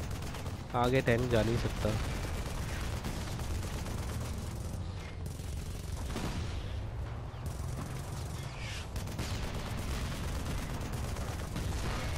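Gunfire in the war game Frontlines: Fuel of War, shooting coming from behind with continuous battle noise and rumbling explosions, while someone talks over it in Hindi.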